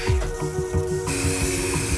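A spray paint can hisses steadily as it coats plastic parts of a Mini Yozma motorcycle, the hiss loud and close and brightening partway through, with clattering handling noises underneath.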